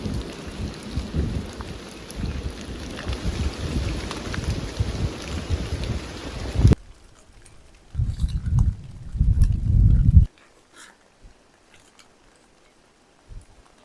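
Rain falls steadily through a forest, a loud dense patter that cuts off abruptly, followed by short bursts of rain noise and then near silence with faint drips.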